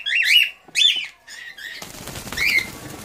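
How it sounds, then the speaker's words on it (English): A pet cockatiel flaps its wings in flight indoors, a brief fluttering burst after several close, loud bird calls. "Birds flying everywhere."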